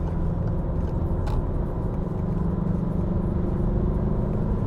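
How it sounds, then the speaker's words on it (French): A Peugeot 308 with a 1.5 BlueHDi 100 diesel engine accelerates on an expressway, heard from inside as a steady low drone and rumble, alone and fairly loud. "C'est à l'accélération qu'il commence un peu plus à se faire entendre. C'est un diesel, hein."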